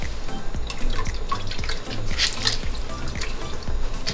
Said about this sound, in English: We're going to fill our hydrometer tube up.